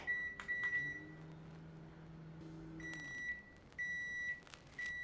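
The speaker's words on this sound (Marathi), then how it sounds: "हे मी मायक्रोवेव्ह करते" A microwave oven hums steadily while cooking fasting dahi vada batter, its low drone ending as repeated high electronic beeps sound in short bursts, near and fairly quiet.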